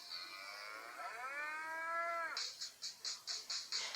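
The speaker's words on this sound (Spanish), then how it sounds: "Dime si tú sabes cómo hace la vaca, vamos a escucharla tú y yo." A cow moos once in a long, drawn-out, harmonically rich call, heard close and alone, followed by a quick run of short high chirps like small birds.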